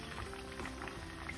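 Potatoes fry in oil with a dense, continuous sizzle and bubbling crackle, close and steady, with a faint low hum beneath and no voices.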